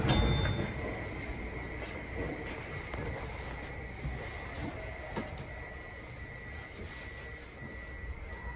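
An out-of-service train runs past on a Tokyo-area line with a steady rolling rumble and a whining tone, loud and close, fading slightly toward the end.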